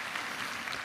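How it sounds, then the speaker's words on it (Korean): Church congregation at a Sunday newcomers' worship service clapping for the staff, a short burst of steady, dense applause from the room, moderately quiet with no voices over it. "우리 스태프분들 너무 수고하시는 박수 한번 할까요?"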